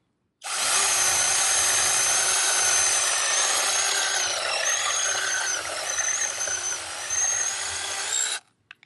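A high-pitched whining 6-inch brushless mini cordless chainsaw runs continuously for several seconds, close and loud, its tone dipping slightly as it bites through a wooden branch, then cuts off.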